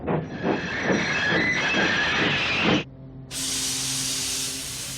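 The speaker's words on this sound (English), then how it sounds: "Thomas's brakes sound like this." Thomas the steam engine braking, a rhythmic chuffing screech that ends in a sharp stop, followed after a brief pause by a loud, sustained hiss of released steam.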